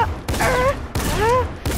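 A Fortnite gunshot headshot lands amid loud, punchy bursts, with a few heavy shots cutting in separately and bright rising tonal chirps of game effects between them, close and prominent.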